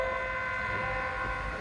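A JR Hokkaido 261 series Ozora limited express passes through Eniwa station on the Chitose Line, giving a loud, close, steady rolling rumble with a sustained tonal horn or whine above it.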